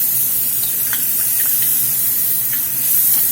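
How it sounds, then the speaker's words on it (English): Garlic hitting a hot pan of toasting mushrooms and herbs, giving a steady broad sizzle and hiss with a few faint stirring clicks, close and continuous with no voice. "We're going to get the garlic in."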